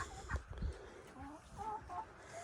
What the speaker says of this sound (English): See, those are all the other hens I was telling you about.